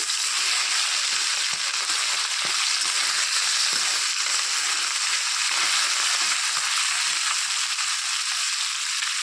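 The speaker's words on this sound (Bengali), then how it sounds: "মাছগুলোকে খুব হালকা করে ভাজবো" Small tengra fish frying lightly in a pan give off a loud, steady hiss of sizzling oil that runs unbroken throughout, dotted with occasional soft pops and spatters.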